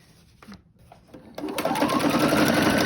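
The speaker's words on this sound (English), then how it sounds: "And I'm sewing straight down." A sewing machine stitching a straight seam down fabric starts after a few quiet handling clicks, then runs steadily and loudly with a fast, even rattling hum.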